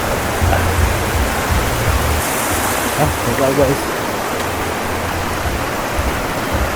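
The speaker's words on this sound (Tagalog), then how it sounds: "Running water. Literal na ilog, ha?" Steady broadband rush of water running through a man-made stream at a spring resort, constant and fairly loud throughout, with someone speaking briefly over it.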